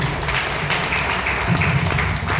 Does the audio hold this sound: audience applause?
yes